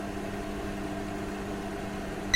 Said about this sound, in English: Wait until the microwave finishes heating before removing the food inside.